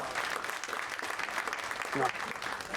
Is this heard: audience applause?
yes